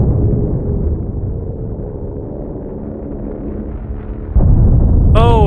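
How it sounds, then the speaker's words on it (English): Sustained cannon fire in the space combat game The Last Starship, a dense continuous rumble of overlapping booms that swells louder near the end, with a brief rising electronic tone at the close. "It's overwhelming cannon fire."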